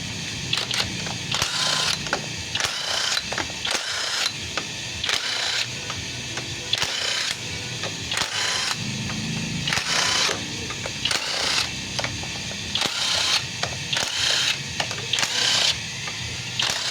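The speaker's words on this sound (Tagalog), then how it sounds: "tanggalin natin yung mga bolt ng 8mm" Bolts of 8 mm are removed from a TMX Supremo motorcycle, with repeated bursts of whirring ratchet or power-tool spinning broken by short pauses and metallic clicks, heard up close.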